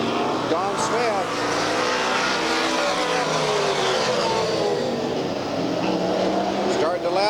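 Race cars roar around a speedway track at Redwood Empire Raceway in Ukiah, a dense continuous engine drone with a pass rising near the end, under a commentator's talk.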